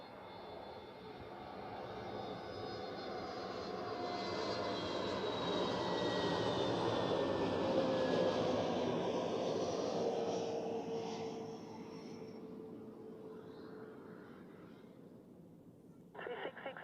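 Jet airliner taking off from runway 16 at Zurich Airport, a loud sustained engine roar that builds over several seconds and slowly fades, with a brief clatter at the end.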